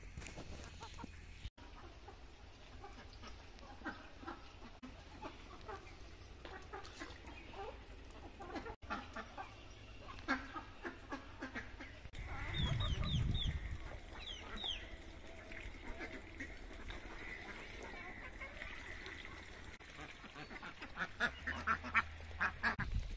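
Free-range ducks and chickens on a village farm in Mahendraganj cluck and quack intermittently at moderate distance, with a brief louder burst of activity midway and steady outdoor ambience throughout.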